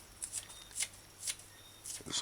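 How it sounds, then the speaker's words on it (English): Food scissors snip a scallion into fine strips in a home kitchen, giving about five crisp, close cuts spaced roughly half a second apart over a quiet background. "Using the scissors to cut it fine."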